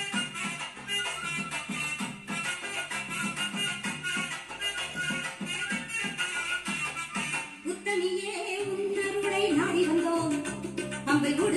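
A song played from USB through an Ahuja SSB 120-DP 120-watt amplifier comes through at moderate level, with steady beat and melody that shift into a fuller vocal-led section partway through.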